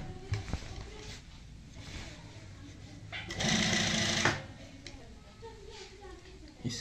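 A sewing machine runs in short bursts while stitching a border onto a neckline, with a louder sustained whir midway and a voice talking in between.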